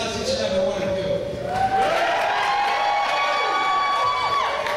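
Crowd at a UWE professional wrestling event cheering and shouting in unison, a loud continuous roar of many voices filling the arena throughout.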